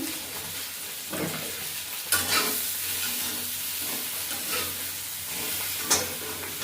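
Fried potatoes sizzle loudly in hot oil in a pan for a potato curry in a village kitchen, with a continuous close hiss broken by a few scraping stirs and no talking.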